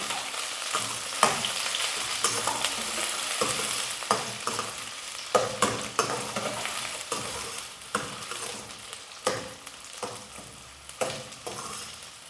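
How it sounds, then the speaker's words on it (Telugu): Onions fry in a pan for chicken curry, a constant sizzle with repeated scraping stirs and clacking utensil strokes at an irregular rhythm, close and fairly loud. "ఉల్లిపాయలు అనేది ఫ్రై అయ్యాయండి."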